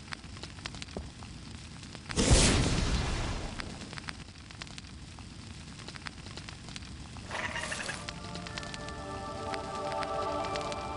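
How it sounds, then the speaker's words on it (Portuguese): Rain falling in the Harry Potter and the Philosopher's Stone PC game, a steady hiss of drops on surfaces with a sudden loud burst partway through and faint tones later, no talking. "Está chovendo."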